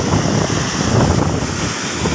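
Strong sea waves pounding the shore during a typhoon, a steady loud roar of surf mixed with heavy wind buffeting, continuous with no pauses.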